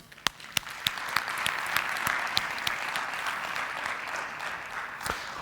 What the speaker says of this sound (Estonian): Teeme aplausi neile.